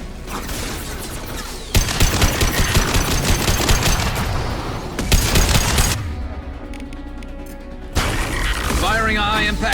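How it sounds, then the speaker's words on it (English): Mass Effect 2 gunfire in bursts of rapid shots across most of the span, loud and close, with short pauses between volleys and game voices talking over parts of it. "Firing a high-impact shot."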